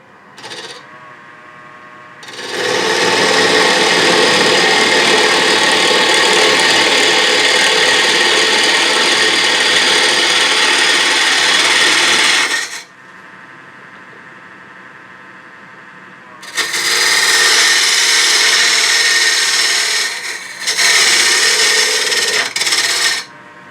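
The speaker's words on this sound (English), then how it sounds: "take this box scraper and just do a little bit of inside cleanup work here" A box scraper cuts inside a wooden box turning on a lathe, loud continuous rasping scrape in two long passes with a brief pause between, the lathe's hum underneath during the gaps.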